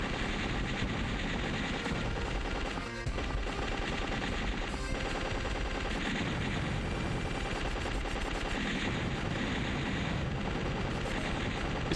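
Dense, continuous enemy gunfire from a side-scrolling shoot-'em-up, Legend of the Steel Empire, on Switch: loud, relentless rattling bursts layered over music for the whole stretch, with no talking.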